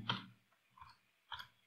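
A computer keyboard is tapped three times, the quiet, separate keystroke clicks spaced about half a second apart with no talking.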